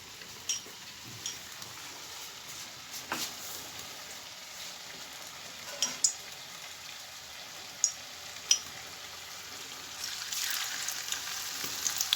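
Battered pumpkin slices frying in oil over a low flame give a steady soft sizzle, dotted with occasional sharp pops and crackles that grow busier toward the end.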